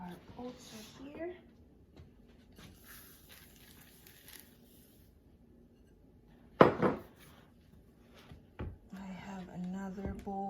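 Oats being mixed into chocolate chip cookie dough in a bowl give off soft scraping and clinking, with a sharp utensil knock near the middle and a couple of fainter taps, under nearby talking.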